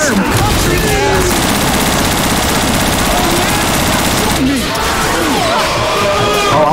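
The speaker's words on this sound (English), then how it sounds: "Hey, stop shooting." Automatic gunfire in Left 4 Dead 2 rattles loud and nearly nonstop, broken by crashes and impacts, while voices shout over the shooting.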